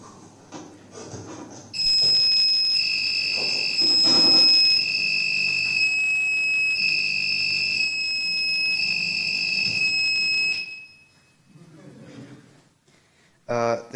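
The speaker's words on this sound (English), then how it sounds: "a separate LED and a buzzer" A shrill, high electronic buzzer on a smart-house project board blares continuously for several seconds in pulsing bursts, with a person talking faintly before and after.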